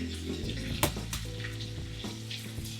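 Rice frying in a pan with egg, a close steady sizzle with a few sharp scraping stirs over a low hum.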